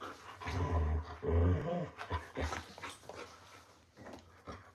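A dog plays fetch with its toy, letting out close, loud growls and whimpers in short bursts with brief pauses.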